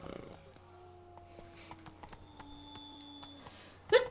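Hoofbeats from the horse Roach clop softly in a game world during Witcher 3: Blood and Wine, quiet and steady under faint background tones, ending with a brief louder burst.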